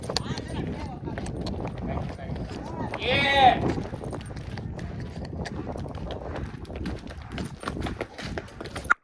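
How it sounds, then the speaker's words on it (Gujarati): A Kathiyawadi horse in training steps along, its hooves clip-clopping faintly in an irregular rhythm, mixed with scattered knocks and a trainer's voice. "ઘોડો"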